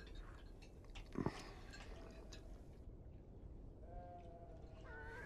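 Churro sheep bleat on a ranch in the video game Beyond: Two Souls, giving a few short wavering calls near the end over a steady low ambient bed, with a brief louder knock earlier.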